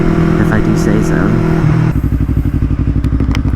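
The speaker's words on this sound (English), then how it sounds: "It's a really nicely well-made exhaust system, if I do say so." A Yamaha MT-03 fitted with a full Akrapovic exhaust rumbles close and loud, first under a voice, then alone in an even, rapid pulsing beat at low revs.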